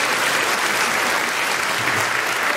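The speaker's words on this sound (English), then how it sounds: "So if you give her a round of applause" Dense, sustained applause from a crowd at a spring school band concert, a continuous wash of clapping filling the hall, loud and close without pause.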